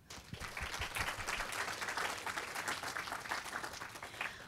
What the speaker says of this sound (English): So let's thank them again with a round of applause.